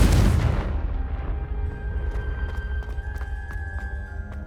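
A Confringo blasting spell explodes in the video game Hogwarts Legacy: one loud, broadband burst at the very start that decays quickly into a lingering rumble and a steady tonal game soundtrack.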